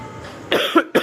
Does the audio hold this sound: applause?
no